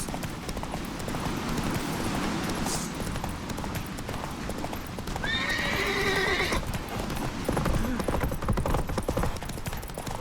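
Roach the horse galloping in The Witcher 3, a fast continuous clip-clop of hooves under a dense wash of game sound, with a loud neigh and whinny rising in the middle and a voice briefly heard.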